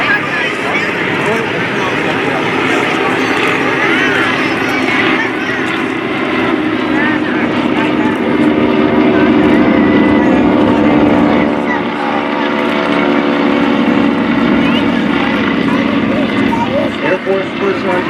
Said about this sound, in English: Now the Lycoming 300 horsepower, again a 9-cylinder engine. And those two are very crisp propellers.